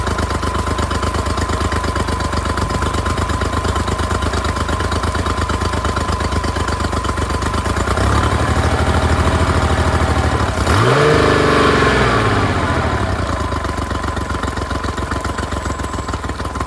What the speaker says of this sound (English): Oh, that is a beautiful idle.